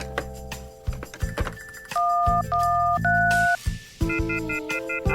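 Telephone dialing in the horror mystery game Novena Diabolos, where an inn's desk phone has gone dead: a loud, close sequence of steady electronic touch-tone beeps with short gaps, followed by clicks and a different buzzing tone.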